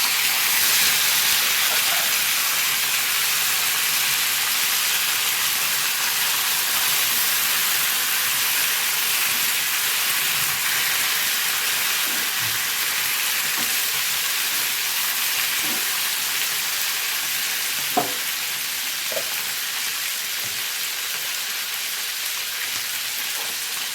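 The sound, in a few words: peanuts and chopped tomatoes frying in tempering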